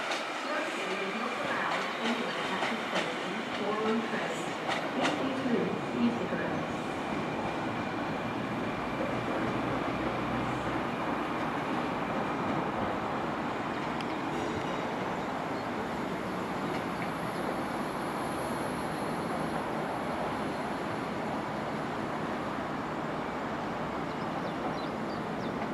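A Greater Anglia Class 156 diesel unit, 156418, runs past at Ipswich station with a steady rumbling roar and faint rail clatter, holding at moderate level throughout its long pass.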